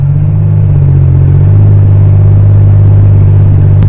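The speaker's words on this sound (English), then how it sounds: "Listen to that stealthy engine." Steady car engine rumble heard from inside a vehicle cruising the I-75/85 South highway through Atlanta, a loud continuous low drone with road noise and no talking.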